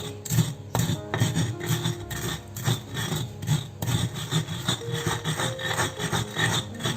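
Eggshells being crushed and ground in a stone mortar and pestle (ulekan) to make fertilizer, heard as a steady gritty rasping and scraping with repeated rubbing strokes, close and continuous with no talk.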